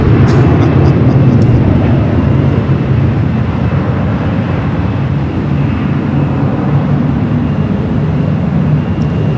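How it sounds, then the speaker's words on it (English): A Boeing 787 Dreamliner arriving from Newark at LAX, a loud, steady broadband jet roar that rumbles continuously without a break. "It's the flight coming in from Newark on that 787 at 10 at Dreamliner"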